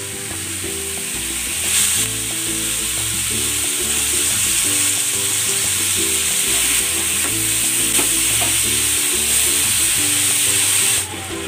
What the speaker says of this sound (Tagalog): I-sear muna natin itong ating pork belly.